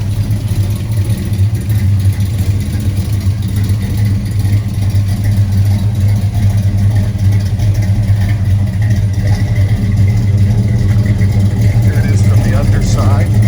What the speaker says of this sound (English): It's running nicely right now. It's got a bit of a lumpy cam in it.